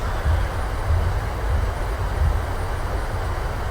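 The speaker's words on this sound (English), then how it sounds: "And reversers are active." A PMDG 737-700 airliner in Microsoft Flight Simulator 2020 rolls out after landing at Bordeaux with thrust reversers engaged, giving a loud, steady, deep roar with rumbling low pulses and no talking.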